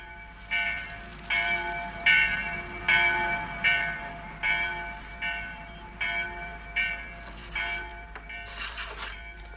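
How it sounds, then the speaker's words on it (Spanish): A village church bell tolls in steady strokes, about one per second, each ringing with a bright metallic tone over a low background hum. "¿Oyes la campana de la iglesia?"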